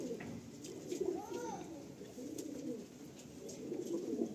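Fulsira pigeons with bluish beaks and bars coo softly in a loft, a few low rolling calls rising and falling steadily over a faint background hiss.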